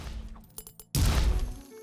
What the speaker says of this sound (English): Seemed like a bigger explosion, too.